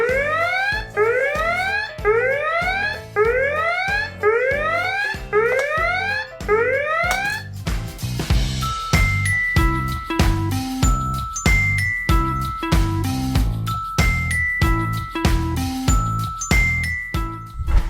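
A repeating electronic alarm of rising sweeps from a Scratch 3.0 program gives way to a rapid, tinkling chime pattern with bright beeps, loud and continuous throughout.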